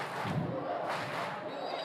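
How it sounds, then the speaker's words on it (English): The LaSalle student section at a high school football game against St. Joseph's Prep roars in a brief burst of crowd cheering, a dense wash of distant shouting voices. "There's no calming down this LaSalle student section after that, though"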